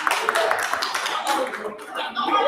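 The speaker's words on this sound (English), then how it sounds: "Round of applause for them" A crowd claps in a brief round of applause while voices talk over it.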